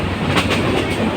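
A moving passenger train gives a loud, close, steady rumble with rhythmic clickety-clack from the wheels crossing rail joints, heard alone with no talking.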